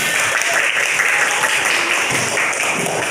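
A primary school classroom of children claps together, a loud, dense, continuous patter of many small hands, close and steady for a few seconds.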